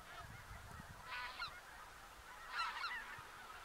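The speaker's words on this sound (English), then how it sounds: "these ducks are on us now, boys" Geese honk in two short bursts of calls over a waterfowl hunt in Alberta. The calls are faint and distant, with no talk, over quiet wind.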